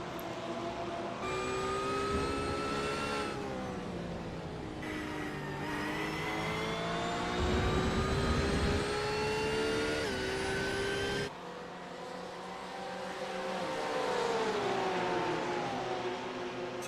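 A Porsche race car in a sim-racing endurance event at Sebring International Raceway, its engine loud and close, revving up through the gears with sharp pitch climbs and drops on shifts, no talk.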